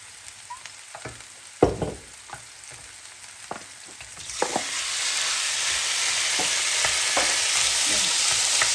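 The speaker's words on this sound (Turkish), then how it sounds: "bunları kavuracağım ben" Onion sautés in a pan: a few sharp taps and stirring knocks come first, then a loud, continuous sizzle rises and stays steady to the end.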